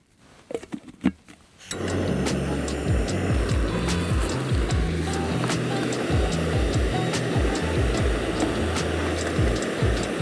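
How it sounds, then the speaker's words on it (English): A Jetboil camping stove roars steadily as it boils water outdoors, a loud, constant burner hiss after a few brief handling knocks at the start. "Do you put the plastic lid on the jet boil cup to boil water?"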